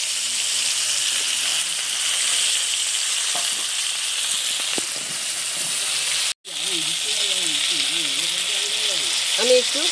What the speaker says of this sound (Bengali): এপাশে ফোড়নের কড়াইতে দিয়ে দিচ্ছি পেঁয়াজ